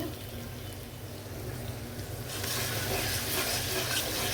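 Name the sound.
spice paste sautéing with green chilies in a pan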